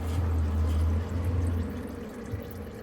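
Engine oil drains and drips from a C5 Corvette during an oil change, a steady liquid trickle over a low continuous rumble, close and unbroken.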